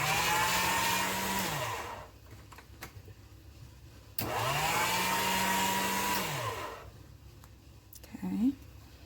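Motorized clay rolling machine pressing polymer clay into a thin sheet: a steady whirring motor hum runs in two bursts of about two seconds each, separated by a quieter pause, with a brief mechanical clunk near the end.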